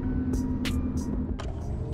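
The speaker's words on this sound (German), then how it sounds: "wir sind im Auto" Steady low road rumble and engine hum inside a moving car, continuous and close throughout, with a few brief higher clicks or rattles over the drone and no talk.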